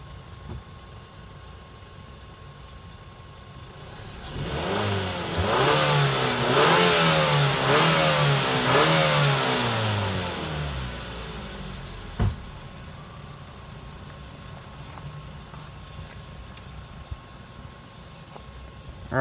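A 2007 Mazda 3 with a 2.3 L engine revs from idle, climbing and falling through several loud, smooth sweeps over about six seconds before settling back to a steady idle.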